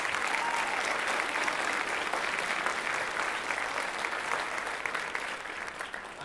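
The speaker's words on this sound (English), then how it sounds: "big round of applause for them and their support" Sustained applause fills a school auditorium as the audience claps for teachers at a beginning band winter concert, a dense, even wash of many hands that holds steady for several seconds before easing slightly at the end.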